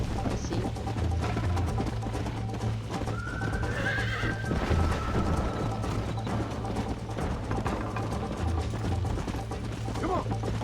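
A horse whinnies loudly over steady galloping hoofbeats and a constant mechanical rumble in Red Dead Redemption, with game sounds filling the background.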